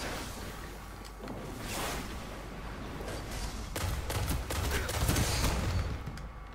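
Shotgun blasts in Destiny PvP play: a few sharp, heavy reports spaced a second or more apart, rising out of a steady rushing game ambience.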